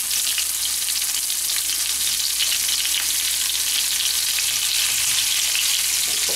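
Pointed gourd pieces frying in oil with turmeric and salt, a dense, continuous hiss of sizzling that stays loud and even from start to finish, heard close with no talk.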